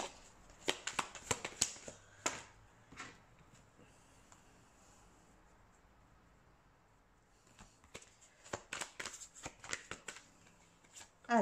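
Tarot cards shuffled in bursts of crisp riffling and snapping at the start and again near the end, close and fairly quiet, with a near-silent pause between.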